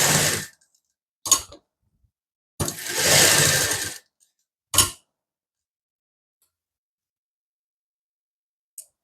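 A sewing machine stitches plazo fabric in short bursts, a few quick whirring runs of varying length separated by silence, close and clear with no talking.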